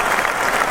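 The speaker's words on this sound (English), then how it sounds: "They get the super applause because why?" A short burst of steady applause from a studio audience, a dense even wash of clapping with no pauses across the brief moment.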